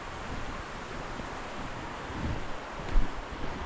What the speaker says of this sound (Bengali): এগিয়ে যাচ্ছি, একটা সুন্দর নদী